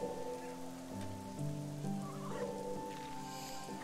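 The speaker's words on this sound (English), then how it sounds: "It is raining now." Steady rain patters continuously in a video game, heard close and even beneath a sustained tonal music bed.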